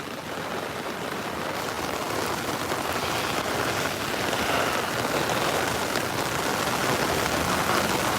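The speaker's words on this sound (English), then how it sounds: "just remind people that I'm having flooding rain" Heavy flooding rain from Tropical Storm Fay pours down steadily in Queens, New York City, a dense unbroken hiss of water drumming on surfaces with no pauses.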